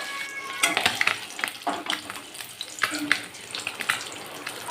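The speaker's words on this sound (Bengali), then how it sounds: "মাছগুলো একটু এরকম সুন্দর লাল লাল করেই ভেজে নিতে হবে" Tangra catfish frying in oil until red-browned, a close, busy sizzle with repeated sharp spatters and pops scattered through, fairly steady in level with no talking.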